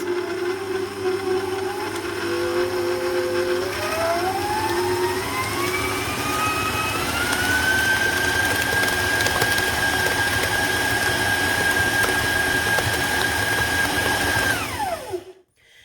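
Electric stand mixer beating gluten-free bread dough for free-form loaves, a loud steady whir throughout whose motor pitch climbs as the speed increases, then holds level before cutting off at the end.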